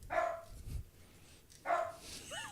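A dog barks twice, a couple of seconds apart, each bark sharp and fairly close, with a faint whimper at the end and low background noise.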